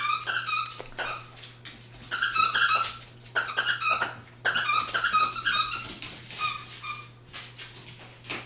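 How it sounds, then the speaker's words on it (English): A puppy squeaks and whines in repeated high, nasal bursts from close by, alternating with short pauses over a steady low hum. "forgive me for the extra noise. Y'all know I got a puppy over here."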